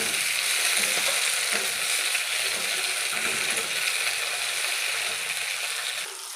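Chopped tomatoes frying in a pan over browned onion and garlic for a crab curry, a steady loud sizzle with faint stirring scrapes, close up and no talking.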